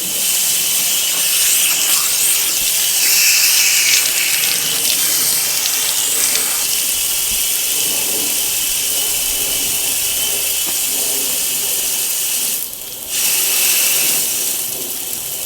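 Pressurized water jetting from the outlet of a homemade road shower, a loud continuous hiss and splash close by that holds steady and dips briefly near the end, with faint talk underneath.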